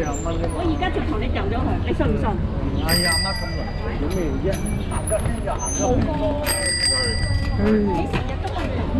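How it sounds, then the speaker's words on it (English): Bicycle bells ring in two bright, repeated bursts during a bike ride on Cheung Chau island, heard amid loud street bustle and overlapping voices of people talking nearby. "I rang the bell, dude."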